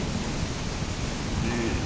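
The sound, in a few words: rain with thunder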